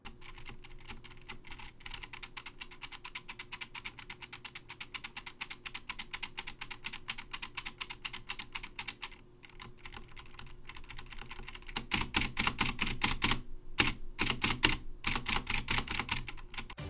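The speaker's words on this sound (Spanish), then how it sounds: "Vuestra barra de espacio es de lo peor, hace muchísimo ruido" Steady typing on a Corsair K95 Platinum mechanical keyboard, close and busy; a faster run of sharper, louder key strikes near the end includes the noisy space bar.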